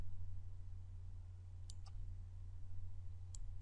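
Mouse clicks at a computer, two quick pairs of small, faint ticks over a steady low electrical hum.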